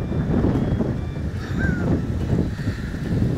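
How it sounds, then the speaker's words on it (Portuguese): Strong gusts buffet the microphone in loud, low rumbling bursts, with a faint engine tone in the background. "que vento da porra"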